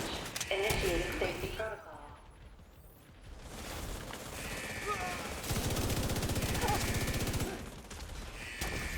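Rapid automatic gunfire in a Division shooter game, several bursts of sharp shots broken by brief pauses, loud and close, with a voice talking over the shooting.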